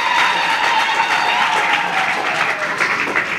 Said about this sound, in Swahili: Tujipige makofi.